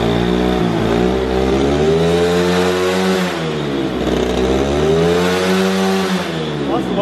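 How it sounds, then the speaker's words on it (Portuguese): A modified Shineray 100cc motorcycle engine revs hard and holds near the limit with valve float, its pitch rising, sagging and climbing again in a loud, close, continuous wail. "o bagulho dá uma flutuada mesmo de válvula"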